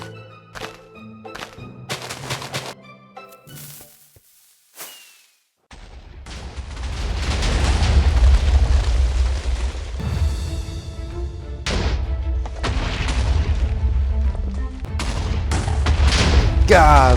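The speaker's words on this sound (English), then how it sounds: "I'll give you more explosions in a second." TNT explosions going off in a Minecraft hardcore world while digging a big hole: a cluster of short booms and thuds at first, then a long, loud, sustained rumbling roar of chained blasts that keeps going to the end.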